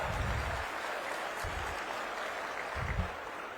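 Crowd applause at an outdoor public government welfare camp in India: faint, steady clapping sustained throughout, heard from a distance with low thumps and background murmur.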